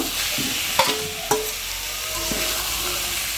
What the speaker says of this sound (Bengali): সব কিছু আমি এখন এখানে দিয়ে আরও কম কষে নেব